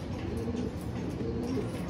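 Pigeons cooing steadily in a low, continuous murmur, several birds close together with no talk over them.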